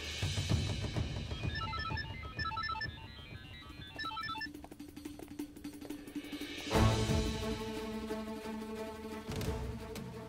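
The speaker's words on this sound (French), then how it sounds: "Ça sonne, le téléphone sonne." A telephone rings with a bright, repeating electronic ringtone in short melodic bursts over a steady dramatic music bed, followed by a louder musical swell, with no talk.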